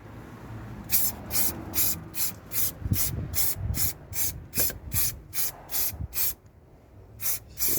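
Dynax underbody protection is sprayed onto a car's wheel arch in about a dozen short bursts of aerosol hiss, evenly spaced, close and moderate in level, with a brief pause near the end before two more bursts.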